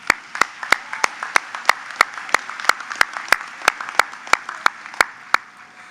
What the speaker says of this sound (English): Round of applause for Janice, please.